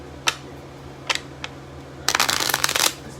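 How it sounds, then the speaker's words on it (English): A tarot card deck is shuffled quickly: a few sharp isolated snaps, then a dense, crisp riffling flutter lasting under a second, close and fairly quiet against a low background hum. "Shuffling the cards real quick."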